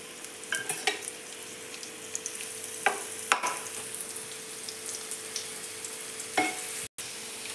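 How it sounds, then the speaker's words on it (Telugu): Onions fry in oil in a pan, a steady close sizzle with small popping crackles and a few stirring clicks throughout, no speech. "ఫస్ట్ ఉల్లిపాయ వేసుకొని వేయించుకున్నాము"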